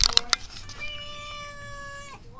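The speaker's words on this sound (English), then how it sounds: "Look at my grandparents' evil cat." A cat gives a long, drawn-out meow after a few sharp clicks, loud and close, with faint rumbling in the background.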